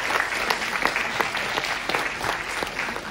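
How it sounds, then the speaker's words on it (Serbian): Dense, steady applause from an audience at a film cast presentation in Kraljevo, a crowd clapping continuously and fairly loudly throughout. "Jedan veliki aplauz za Aleksandra Gligorića"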